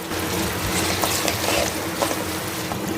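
Onion and tomato frying in a pan with garlic paste, a steady close sizzle with soft crackles and a few stirring scrapes throughout.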